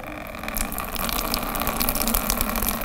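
Water poured from above onto a garden plant pot, a steady gushing splash running continuously and fairly close, with faint trickling detail and no talking.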